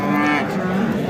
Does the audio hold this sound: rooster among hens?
no